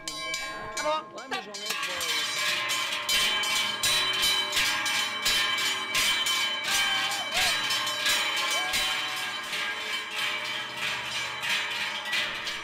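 Numerous hand-held cowbells are rung by bell ringers walking through Chablais villages, imitating a cattle herd's transhumance: a dense, loud, continuous clanging with many overlapping bells close by.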